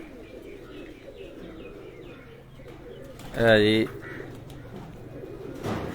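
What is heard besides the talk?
pigeons cooing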